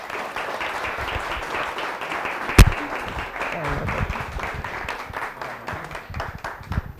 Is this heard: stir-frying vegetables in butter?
no